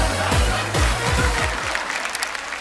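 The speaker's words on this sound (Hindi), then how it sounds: "जोरदार तालियां।" Loud, close audience applause at a kavi sammelan poetry gathering, dense clapping from a crowd that holds steady for a couple of seconds.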